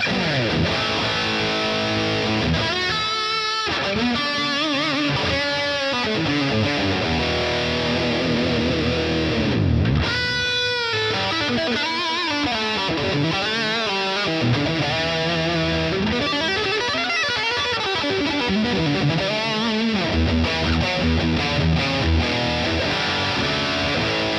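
Distorted electric guitar through a Boss Katana 100 modelling amp on its brown sound setting, with a warm, saturated tone, playing chords and runs continuously with lush reverb and delay trailing behind the notes.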